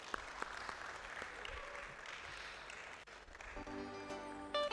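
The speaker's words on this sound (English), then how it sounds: "And I think that's something worth a round of applause." Audience applause at a science week event, a steady spread of clapping from a crowd that fades near the end as music begins.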